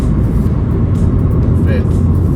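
A 2001 Subaru Impreza 2.0 GX cruising in third gear on a 50 mph road, with a steady low engine and road rumble filling the cabin throughout.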